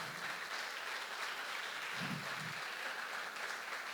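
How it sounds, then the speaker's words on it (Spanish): A church congregation applauds during a sermon, a faint, diffuse wash of clapping heard from a distance, continuous and low in level throughout. "Dale un aplauso al Señor"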